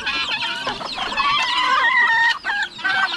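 Turkeys on a farm gobble and cluck close by, a busy overlapping chorus of short, sharp calls.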